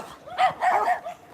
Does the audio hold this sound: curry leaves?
no